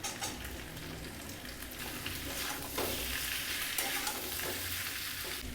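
Chicken and capsicum frying in a pan, with a steady loud sizzle throughout and occasional scraping from stirring, no voices.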